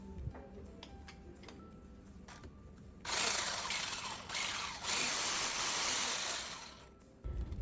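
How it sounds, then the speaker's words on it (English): Flan mixture rattles and sloshes as it is shaken hard in a container, a loud, dense burst of rapid churning lasting about four seconds that rises out of quiet kitchen background and then stops. "we're gonna start to mix it. Shake it, shake it."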